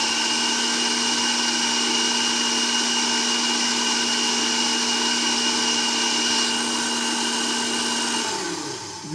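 A kitchen blender grinds fresh strawberries for homemade ice cream, a loud continuous high-pitched whir held steady for several seconds before it winds down.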